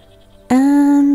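A single sheep bleat from the video game Wytchwood, a sudden loud tonal cry that holds steady for under a second and then cuts off cleanly.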